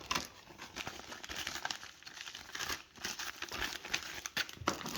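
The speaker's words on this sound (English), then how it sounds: "Snap lock bag." A plastic snap lock Ziploc bag being handled indoors, continuous close crinkling and rustling of thin plastic with irregular louder crackles throughout, no talking.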